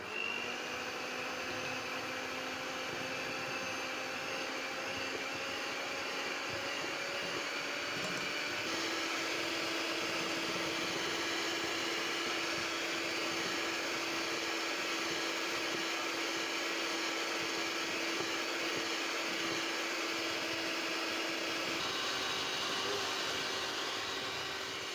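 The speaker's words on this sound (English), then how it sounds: "I'm going to whisk my eggs together with the sugar until very smooth." Steady electric mixer or whisk beating eggs with sugar for doughnut batter, a continuous loud motor whir with a slight pitch shift partway through, running alone without talk.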